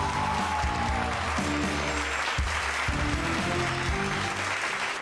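A studio audience on the Vietnamese TV talk show Quyền Năng Phái Đẹp applauds steadily for the arrival of a singer, the dense clapping running the full length over loud, sustained background music.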